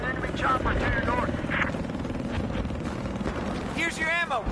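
An enemy helicopter in Battlefield 4 roars with a constant, loud rotor thrum, while voices and chatter come and go on top of it.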